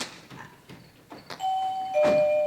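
A doorbell rings with two clear electronic ding-dong tones near the end, after some faint knocks and rustling, during a stage play.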